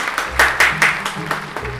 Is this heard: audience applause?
yes